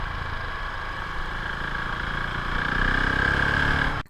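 A Husqvarna Vitpilen 701 motorcycle with its big single-cylinder 700 cc engine runs at a steady, loud, close rumble, swelling slightly in the last seconds before cutting off abruptly.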